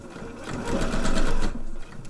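A sewing machine runs basting stitches on jersey fabric in one continuous burst of close, rapid mechanical whirring, building slightly in the middle before easing off.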